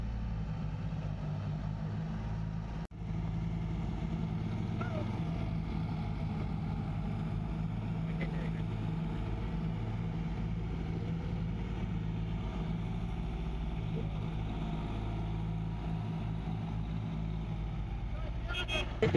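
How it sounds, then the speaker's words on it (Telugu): A tractor stuck in the ground runs its engine steadily while trying to reverse out, a low continuous rumble heard close, with people talking over it throughout. "అది వెళ్తా వెళ్ళదో మళ్ళీ రివర్స్ పెట్టి చూద్దాం"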